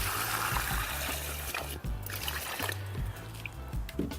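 Fresh water pours steadily into a Scrubba travel wash bag, a continuous close trickling and splashing that runs for about four seconds with no talking.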